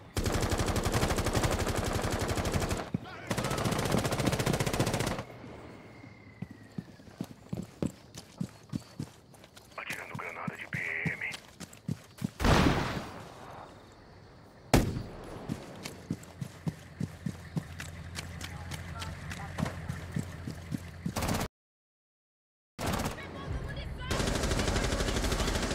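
Bursts of rapid video game gunfire crackle in clusters, alongside footsteps and occasional voices, with brief quiet gaps between the volleys.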